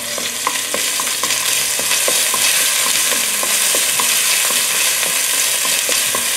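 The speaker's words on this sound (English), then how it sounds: "I'm using my Dutch oven to cook it. Turn the heat a little higher now. I got this beautiful chopped chili." Chopped chili fries in a Dutch oven over raised heat, giving a steady bright sizzle with repeated utensil stirs and clicks against the pot, close and continuous with no one talking.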